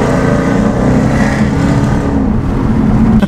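A supercharged 720 bhp Ford Mustang GT fitted with a loud aftermarket exhaust holds a heavy, steady engine roar close up from start to finish, with a deep rumbling growl that briefly rises at the end.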